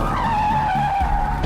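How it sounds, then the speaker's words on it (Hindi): A car loses control on the road, and its tires give a loud, continuous high squeal across the whole moment as it skids, with no impact heard. "विभा अपनी गाड़ी का संतुलन नहीं बना पाई और उसकी गाड़ी एक पेड़ से टकरा गई।"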